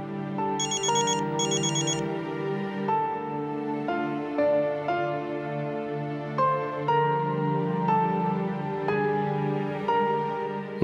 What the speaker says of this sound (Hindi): महक मेरा फोन पिक करो, मुझे बात करनी है।